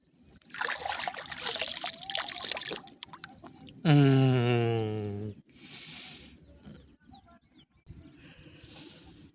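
River water trickles and splashes, then is poured into a drinking vessel with a rising, ringing gurgle, followed by a few quieter splashes and pauses.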